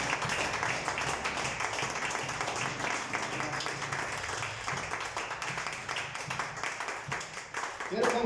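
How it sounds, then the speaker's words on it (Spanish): Sustained, dense applause fills a church during an evening service, many hands clapping together at an even level, with a voice cutting in right at the end. "Damos un fuerte aplauso a los hermanos."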